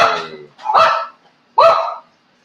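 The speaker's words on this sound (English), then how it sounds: "one will just sit in there and bark" A fat old house dog gives two loud, close barks about a second apart, each a sharp burst that trails off, with silence between and after them.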